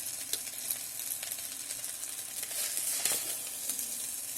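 Dry vermicelli frying in the base of an electric kettle, a steady close crackling sizzle with light scraping stirs throughout, no talk.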